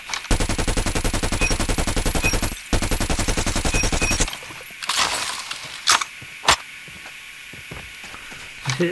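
Rapid automatic gunfire from a weapon in Call of Duty Mobile rattles out in two fast, loud bursts with a short break between them, then a few scattered single shots and clanks follow.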